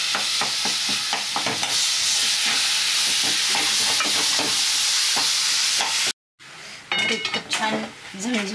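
Spicy brinjal bharit sizzles and fries in a pan, with steady crackling and repeated stirring scrapes for about six seconds, then a short silence and some clinks and clatter of utensils.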